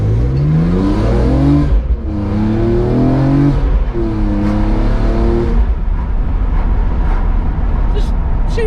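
A BMW E46 M3 with SMG gearbox accelerates hard with traction control off. The loud engine note climbs through rising pulls, broken by sharp gearshift dips, heard from inside the cabin before settling to a lower drone.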